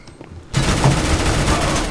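Rapid automatic gunfire from a first-person shooter, Counter-Strike: Global Offensive, bursting in loud and continuous after a half-second of near silence and holding dense volleys to the end.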